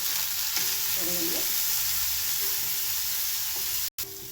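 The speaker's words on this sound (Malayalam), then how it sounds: "പച്ചമുളക്, വെളുത്തുള്ളി, പിന്നെ നമ്മളെടുത്ത് വെച്ചിരിക്കുന്ന ഇഞ്ചി. ഇത് ജസ്റ്റ് ഒന്ന് ഫ്രൈ ആകുന്നത്." Green chili, garlic and ginger fry in a pan with a steady, close hiss of sizzling oil, broken briefly by a few stirring scrapes and a short cut near the end.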